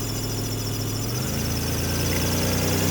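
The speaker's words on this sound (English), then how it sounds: "she pushed the brakes and revved it up a little bit" A 1999 Toyota Avalon XLS engine idles with a low, steady drone, then rises slightly as it is revved gently in reverse with the brakes held, the hum thickening and holding evenly through the end.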